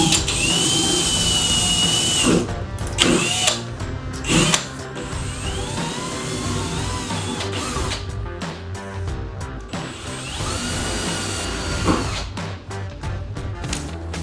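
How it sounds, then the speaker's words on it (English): A drill with a 25/64 bit bores through the trunk lid of a 2015-2023 Mustang GT Performance Pack during a spoiler install. The loud, steady whir runs throughout, with brief surges as the bit bites into the metal. "Again, 25/64 drill bit with very little."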